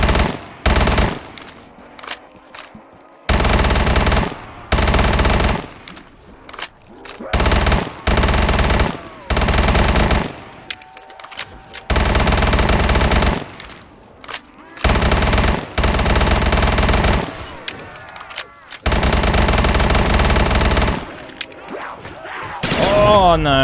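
Machine gun fire in Black Ops 3 Custom Zombies comes in loud, sustained automatic bursts broken by short pauses, with players talking between and under the shooting.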